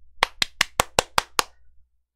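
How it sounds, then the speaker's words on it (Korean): Seven sharp, evenly spaced hand claps ring out in a quick rhythm, close and crisp in a quiet room, then stop. "박수!"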